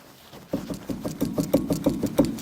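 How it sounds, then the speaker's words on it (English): A failed wheel bearing on a Ferrari Testarossa, as the wheel is rocked top to bottom, gives a rhythmic knocking grind that repeats quickly and steadily, each beat a dull metallic thump with a gritty rumble, close and moderately loud. "So what you're hearing there is indicative of a failed wheel bearing."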